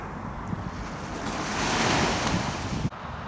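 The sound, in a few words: wind blowing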